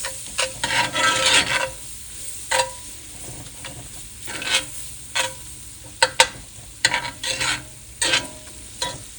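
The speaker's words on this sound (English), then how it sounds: "I'm going to get it all browned up. Get it all stirred around." Ground meat and flour browning in a pan for biscuits and gravy casserole, with a soft sizzle under repeated scraping stirs of a spoon, close and irregular, no voices.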